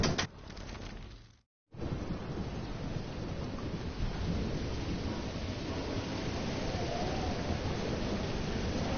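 Thunderstorm in the video game Life is Strange: a rolling roar of thunder and heavy rain fills the clip, broken by a brief silent gap near the start, then a steady loud wash of storm noise with no talk.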